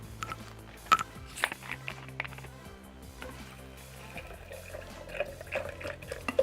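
Cold water poured into a mixer jar holding falsa berries, black salt, salt and sugar for falsa juice, a faint, uneven trickle and splash with a few soft clunks.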